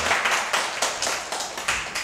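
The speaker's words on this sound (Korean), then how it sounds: "박수 한번" Clapping from an audience at a Korean public science lecture, a short burst of a few uneven, fairly close hand claps in small clusters.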